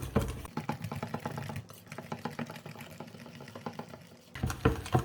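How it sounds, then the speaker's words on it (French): Carrot cake batter is whisked by hand until smooth, giving rapid close rhythmic tapping and scraping strokes against a bowl, with a short lull in the middle. "On va fouetter tout ça pour que ce soit homogène."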